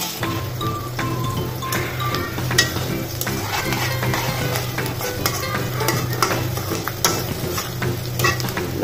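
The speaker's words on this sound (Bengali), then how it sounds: "পেঁয়াজটা আমরা এখন বেরেস্তা করে নিই" Sliced onions frying in hot oil until brown, a close, crackling sizzle broken by frequent scraping stirs of a spatula against the pan, no voices.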